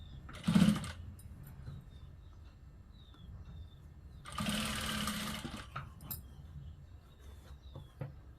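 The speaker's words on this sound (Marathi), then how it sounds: "मी तुम्हाला दाखवते कशा पद्धतीने टीप मारायची" Domestic sewing machine stitching a topstitch along a fabric strip on a princess-cut blouse, heard as two short bursts of whirring stitching separated by quiet pauses with faint handling noises.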